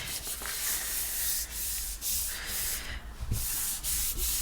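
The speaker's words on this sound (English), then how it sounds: "So I'm going to just give that a really good burnish down." A printed eye chart burnished down by hand, a close steady scratchy rubbing with repeated back-and-forth strokes and brief pauses between them.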